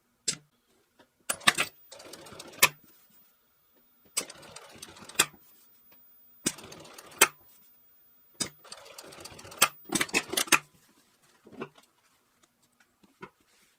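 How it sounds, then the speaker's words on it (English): A Juki LU-2810-7 industrial sewing machine runs a programmed rectangle stitch pattern, whirring in short rapid bursts separated by pauses and clicks, close and clear with no talk. "Then it's going to sew a rectangle that's 5 by 7."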